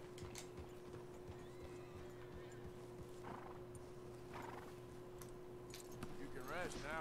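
Horse hooves clopping at a walk under a low steady hum, followed by a horse whinnying near the end, in the video game Red Dead Redemption 2.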